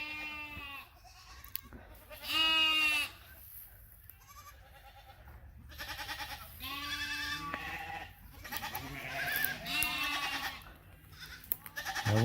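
Goats bleat repeatedly near a creek crossing, several loud, wavering calls from different animals close by, with quieter rustling between them.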